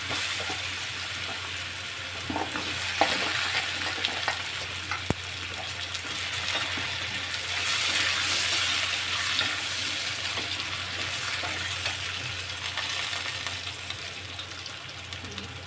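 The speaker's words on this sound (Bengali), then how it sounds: "এবারে একটু কালো জিরে দিলাম, একটু পেঁয়াজ দিলাম, কটা আলু দিচ্ছি।" Potatoes, onion and nigella seeds frying in an oiled pan give a steady hiss and sizzle, with a few light knocks of a utensil against the pan and no voices.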